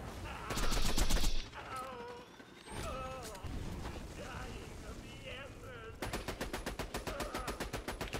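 Rapid automatic gunfire in the video game Borderlands 2 during a fight with Pete: a loud burst opens, then a long stretch of sustained rattling fire carries on while someone talks over it.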